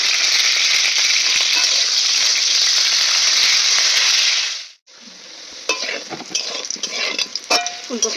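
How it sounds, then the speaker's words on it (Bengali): Carrot, potato and cauliflower fry in white oil in a wok, giving a loud, steady sizzle for several seconds. It cuts out briefly, then returns more quietly with stirring and utensil clatter against the pan. "এবার গাজরটা আর আলু ফুলকপিটা আমি একটু ভেজে নেবো, সাদা তেল এই জন্য কড়াইতে দিয়ে দিয়েছি।"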